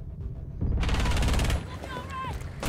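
Gunfire in the Rainbow Six video game, a dense loud burst of shots lasting about a second, followed by fainter echoing noise and a voice.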